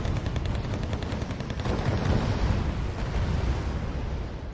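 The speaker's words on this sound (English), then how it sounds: "they don't fire the FD lance because their machine gun is still turned on, and they like to use that instead" Machine gun fire rattles steadily on a Wargame: Red Dragon battlefield, dense rapid bursts blending with rumbling explosions in a loud, continuous wash with no talking.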